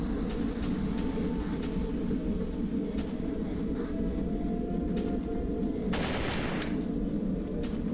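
Gunfire in a horror video game comes as a steady rapid rattle of shots with a dense rumbling bed, loud and continuous, plus a sharper burst near the end.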